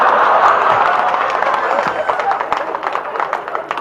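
A live comedy audience breaks into loud sustained applause, dense clapping mixed with crowd cheering and murmur, gradually thinning into separate claps toward the end.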